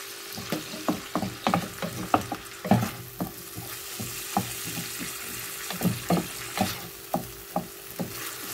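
Onions fry with spices in a pan, a steady sizzle under a hollow room ambience, punctuated by repeated clacks of stirring against the pan; no talking.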